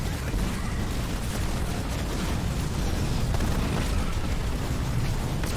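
Mines detonating in Halo Wars 2, a dense, continuous roar of explosions and booms filling the whole stretch at steady loudness, with no distinct gaps between blasts.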